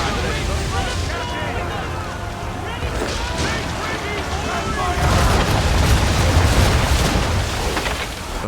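Storm wind at sea in Assassin's Creed roars continuously around a sailing ship, waves surging and crashing beneath, swelling louder in the second half with faint creaks and splashes throughout.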